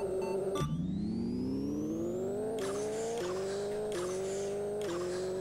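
Ferrari F40 racing in Pixel Car Racer, its engine revving steadily upward through long gear pulls with brief shift dips, accompanied by tire squeal, loud and continuous with no talking.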